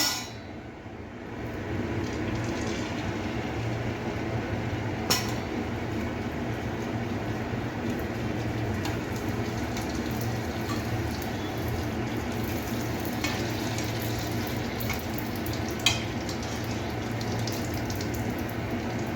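Pani puri dough rounds fry in hot oil, producing a steady, close bubbling sizzle that runs unbroken throughout, with occasional faint clicks from a slotted spoon.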